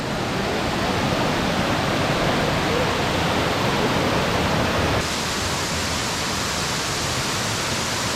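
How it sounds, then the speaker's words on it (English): A loud, continuous roar of falling water, steady and full throughout, with a slight change in tone partway through. "The waterfall coming down, that's cool."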